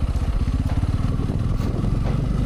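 A motorcycle rides along a quiet, empty village road, its engine a steady low throbbing rumble close by, with no talk over it.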